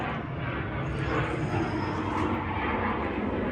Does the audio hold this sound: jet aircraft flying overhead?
yes